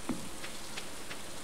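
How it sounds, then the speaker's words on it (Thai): Rain falls steadily in the farming video game Stardew Valley Expanded, a soft, even patter of drops with nothing else heard. "ตอนนี้เราก็เดินทางไปหามาลอนในวันที่ฝนตกนะเพื่อน"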